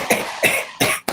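Several sharp coughing bursts in quick succession, loud and close, each a short harsh burst with breathy tails, alone without talk.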